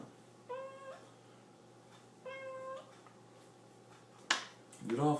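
A cat meows twice, with two evenly spaced, clear meows, followed by a sharp snap and a brief low vocal sound at the end, all fairly quiet in an indoor space.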